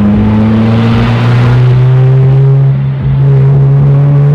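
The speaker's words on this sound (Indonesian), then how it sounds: "Suara knalpotnya, pemirsa. Brong, brong." A vehicle engine and exhaust rumbling close by on a rural village road, a loud steady drone whose pitch slowly climbs as the engine revs, heard alone without talk.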